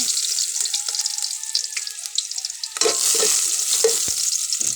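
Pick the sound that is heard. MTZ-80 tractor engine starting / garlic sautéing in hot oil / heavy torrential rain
garlic sautéing in hot oil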